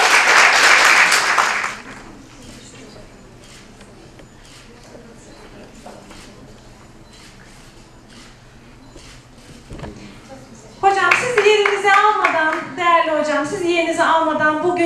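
An audience at an indoor healthy-eating talk claps in a short, dense burst to welcome a cardiology professor to the stage. The clapping fades into a quiet pause, then a voice starts speaking loudly near the end.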